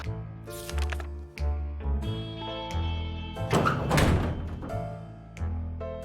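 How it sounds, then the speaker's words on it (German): A bunker door thuds and slides open as a child leaves in 60 Seconds!, a mid-loud knocking rumble under steady game music with a rustling burst near the middle. "wir haben es im Hintergrund gehört, die Tür ist abgegangen"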